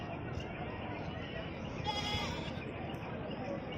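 Goats bleat at a livestock market at Udayarpalayam amid continuous crowd hubbub and talk, one bleat rising clearly around the middle over the dense background noise.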